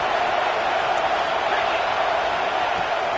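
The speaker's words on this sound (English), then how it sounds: "this crowd trying to help keep them there" A steady, dense roar from a large stadium crowd at a college football game, with Penn State and Indiana playing, sustained at a constant loud level throughout with no distinct voices standing out.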